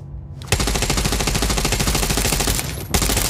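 Rapid automatic gunfire rattles at moving targets on a shooting range in The Division Resurgence, a dense, loud burst of evenly spaced shots lasting a few seconds before cutting off, then resuming briefly.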